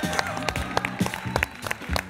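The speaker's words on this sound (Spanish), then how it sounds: "Un aplauso para él, argentino." Studio audience applause on a television game show greeting a cast member, clapping mixed with music and crowd noise, fairly loud with sharp accents scattered through.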